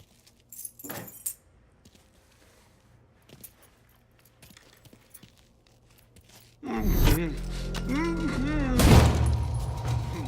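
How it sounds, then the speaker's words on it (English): Keys jangling as they are picked up in the Mafia III video game, a brief metallic clink early on, followed by louder game sounds and a voice. "Lincoln, pick up the keys"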